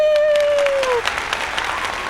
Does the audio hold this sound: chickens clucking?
no